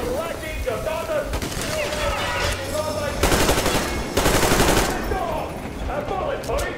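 Automatic gunfire in the video game Metro Exodus, loud bursts of rapid shots, with a dense fusillade between about three and five seconds, mixed with a shouting voice and game sounds.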